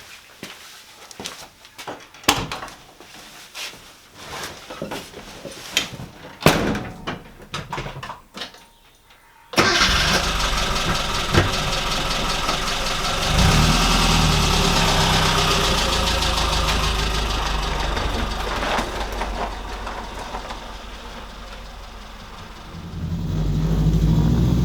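A classic Mini car starts out with scattered clunks and handling noises, then its engine abruptly kicks in and runs loudly and steadily on a road test, a continuous mid-pitched drone that swells again near the end.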